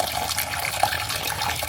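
Water pours steadily into a bowl of oats, a continuous close splashing rush with no pauses.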